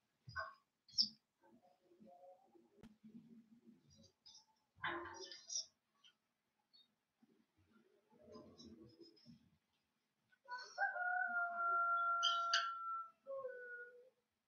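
A rooster crows once near the end, a long, drawn-out harmonic call lasting a few seconds, after scattered softer noises and brief voices earlier on.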